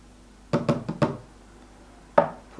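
Several quick knocking rattles from an AeroPress Go coffee maker being shaken, a tight cluster of four or five close, fairly loud hits, then a pause and a single sharper knock.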